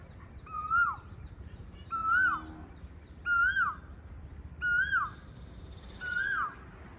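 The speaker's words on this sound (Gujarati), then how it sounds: "કોયલ બોલે મિત્રો" An Asian koel in a village repeats its rising, whistled call five times at steady intervals about a second and a half apart, clear and fairly close over a low rumble of background noise.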